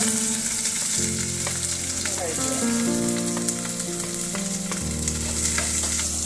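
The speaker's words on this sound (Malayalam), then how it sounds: "കടുകും ഉലുവയും പൊട്ടിക്കഴിയുമ്പോൾ ഇഞ്ചി, പച്ചമുളക്, കറിവേപ്പില, സവോള ഒക്കെ ചേർത്ത് വഴറ്റുക" Ginger, green chilli, curry leaves and onion sauté in a pan of hot oil with mustard and fenugreek seeds for a Kerala mappas, a steady loud sizzle with stirring scrapes.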